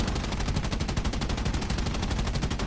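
Bomber gunners in War Thunder, aboard a PB4Y Liberator, fire machine guns in a continuous rapid burst, loud and dense throughout with no pauses.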